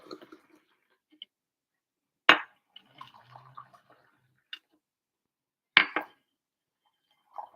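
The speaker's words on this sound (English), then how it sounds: "I'm gonna pour it back and forth to make it cool faster." Tea poured back and forth between vessels to cool it gives two short, bright pouring splashes a few seconds apart, with soft clinks and taps of the cups in the quiet between.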